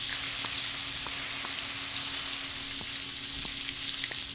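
Chicken deep-frying in a fryer in the video game Chicken Fries makes a dense, constant sizzle with faint clicking pops, close and steady, and no voices are heard.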